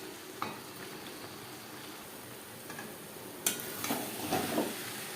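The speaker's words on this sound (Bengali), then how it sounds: "চিকেনের সাথে আলু বেশ ভালো করে মিক্সড করে দেবো।" Chicken pieces and potatoes being stirred in a pan over a high gas flame for a Bengali alu chicken curry, with a steady low sizzle broken by a few scraping stirs and clinks, louder near the end.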